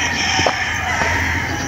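Chickens on a farm in Montalban, Rizal cluck, with a rooster-like call rising briefly over a steady outdoor noise background, fairly close.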